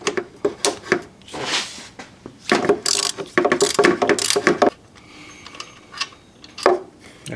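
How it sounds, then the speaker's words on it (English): A wrench works a 15mm bolt on a Chevy 3.8L engine, giving a string of sharp metallic ratchet clicks and clanks in irregular bursts, close by, with quiet pauses between. "next we're going to remove this 15mm bolt down here."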